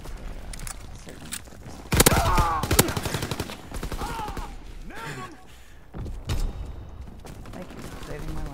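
Gunfire in Call of Duty WW2: repeated rapid automatic bursts and single loud shots with thuds, close and punchy, mixed with game voices and radio chatter throughout.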